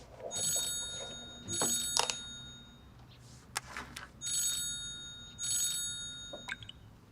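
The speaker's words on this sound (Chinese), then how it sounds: "刚才秀妍院长来电话了" A telephone rings in paired electronic bursts, two double rings with a pause between, against a quiet room with faint clicks.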